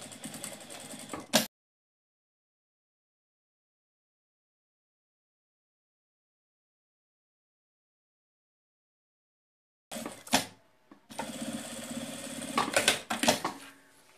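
A sewing machine stitches along the side of a fabric backpack in short bursts, with a brief run at the start, a long silent gap, then stop-start stitching building to a louder stretch at the end.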